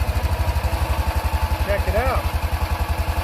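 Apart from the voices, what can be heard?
engine running smoothly after repair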